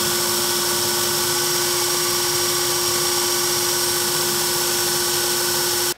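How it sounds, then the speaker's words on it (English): A belt sander grinds a flat chamfer on the bottom of a cicada mount with a loud, continuous high whine, running steadily for several seconds before cutting off abruptly at the end. "I am going to sand off one flat chamfer here on the bottom so that our bug sits nice and still"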